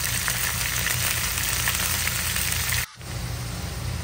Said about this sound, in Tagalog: ginigisa na po natin siya sa patis